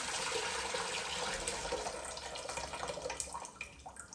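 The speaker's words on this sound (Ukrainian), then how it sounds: "Ставлю каструлю в умивальник і просто виливаю." Brine is poured from jars of marinated tomatoes through a perforated plastic lid into a pot set in a kitchen sink, making a soft, close splashing trickle that runs for about four seconds with small dribbles toward the end.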